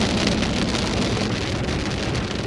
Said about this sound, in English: we're getting a little bit of some monsoon action right now